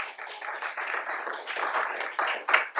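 Applause from a polite audience at a community presentation on Long Island Sound coastal water quality in Darien, a steady, dense patter of many hands clapping that swells slightly toward the end.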